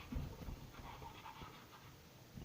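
A dog pants quietly and rhythmically close by, quick steady breaths with a few soft rustles and no talking.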